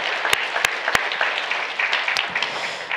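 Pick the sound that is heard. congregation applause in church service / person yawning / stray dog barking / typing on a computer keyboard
congregation applause in church service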